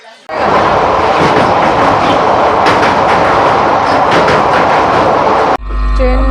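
The Sri Jagannath Express, train 18410, runs at speed after leaving a station, a loud continuous rumbling roar with rhythmic rattling that cuts off abruptly near the end.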